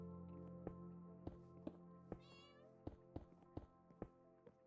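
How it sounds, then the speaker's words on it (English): A cat meows in the video game Minecraft, one clear mid-length meow rising over a steady tonal music bed, with several sharp ticks scattered through the clip. "I can hear a cat."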